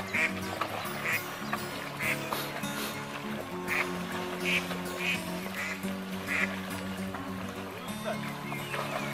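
Ducks quack in repeated short, nasal calls at moderate distance during an outdoor walk, over a steady background rumble.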